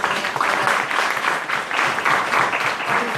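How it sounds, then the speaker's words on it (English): An audience at a festival documentary screening claps steadily in a dense, sustained round of applause, loud and close, with no voices standing out. "Can I please have a round of applause"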